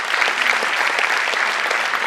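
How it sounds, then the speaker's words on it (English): A loud, dense burst of audience applause at an inauguration event fills a hall, a continuous roar of clapping hands with no break throughout. "Can we have a huge round of applause?"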